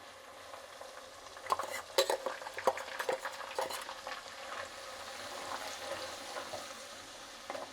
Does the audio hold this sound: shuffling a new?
no